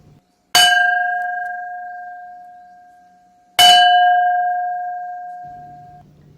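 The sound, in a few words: school bell ringing to end a period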